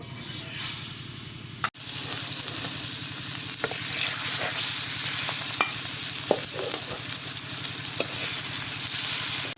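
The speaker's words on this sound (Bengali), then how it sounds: "মাছগুলো সব কি ভেজে নিলাম" Steady, loud sizzling of baghair catfish pieces frying in hot oil, a continuous crackling hiss with occasional sharper pops, no voices.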